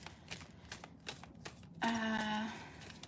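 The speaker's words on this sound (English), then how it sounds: "Shuffle a little bit and we'll get into this." Tarot cards from a pretty illustrated deck being shuffled, a burst of riffling and rustle starting partway through that carries on for about a second, close and moderately loud, with quiet room noise before it.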